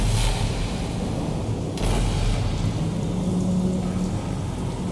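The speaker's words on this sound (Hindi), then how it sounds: "ये क्या है, बारिश हो रही क्या इधर?" Rain in the game Alien: Isolation near the base of a reactor, a dense steady hiss of falling water with low rumbling and occasional creaks, constant and fairly loud throughout.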